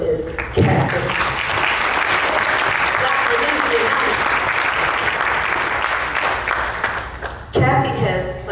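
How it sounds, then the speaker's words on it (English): An audience at a talk about confronting human trafficking applauds: loud, sustained clapping fills the room for several seconds, with faint voices among the crowd before it tapers off. "You guys, can you just clap it up again for Miss Kathy?"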